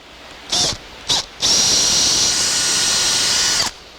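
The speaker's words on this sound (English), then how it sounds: "so you drill right through it" A power drill bores a hole through a wooden drawer front topped with veneer. Two short, loud bursts are followed by one sustained high whine that runs for about two seconds and then cuts off, with no talking.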